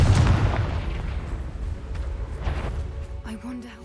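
Confringo spell blast in Hogwarts Legacy, a loud booming burst at the start that decays into a rumbling tail, with a voice speaking faintly near the end.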